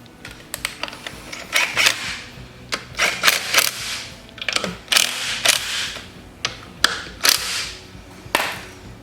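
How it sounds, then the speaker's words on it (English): Tightening the fuel pump bolts on a Kawasaki FD590V water-cooled engine: a series of sharp ratchet clicks and metallic taps in irregular bursts, close and fairly loud, with brief pauses between them. "So I can go back and snug up these bolts on the fuel pump."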